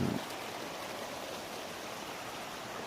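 Water rushes and splashes steadily over rocks at Than Thong Waterfall in Sangkhom, Nong Khai, Thailand, a constant soft hiss of a small cascade with no voices.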